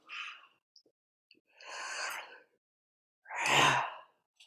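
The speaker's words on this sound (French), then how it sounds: "Baillez à pleines dents" Three long, breathy yawning exhalations spaced a second or so apart, close and quiet with silence between, the last one deeper and fuller with a voiced, groaning edge.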